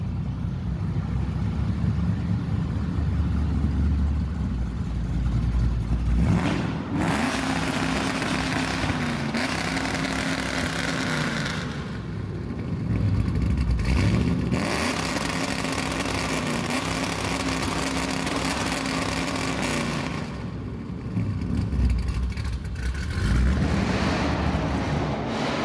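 Chrysler 300 SRT8 engine running loud and steady for about 25 seconds, with repeated rising revs and deep low rumble close by.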